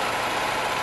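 A Renault Twingo 1.2 16V Sport engine idling just after starting, a steady, even mechanical hum with a constant low rumble and no speech.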